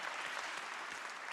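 Audience applauding steadily at a business school class celebration session, a dense continuous patter of clapping with no pauses throughout.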